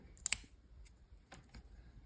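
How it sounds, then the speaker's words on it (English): Small scissors from a Swiss Army Classic SD pocket knife snip through a Walmart paper receipt, giving a quick pair of crisp close snips followed by a few fainter cuts in a quiet room. "Let's cut the Walmart receipt here. They will cut."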